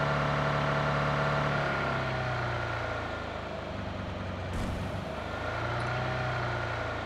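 A car engine drones steadily in the video game PUBG Mobile, a close, constant low hum that dips in pitch midway and then settles back, with no talking.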